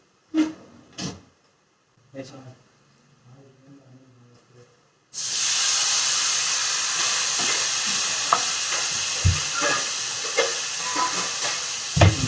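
Tamarind and tomato hit hot oil in a preheated pan and break into a loud, continuous sizzle with stirring scrapes, after a few seconds of quiet talking and clatter.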